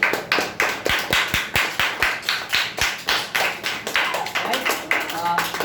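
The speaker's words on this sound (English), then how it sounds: "Clap for Karthik." A small audience at a public speaking competition claps for the next speaker. Sharp, uneven claps come close together in a steady stream and fade slightly toward the end.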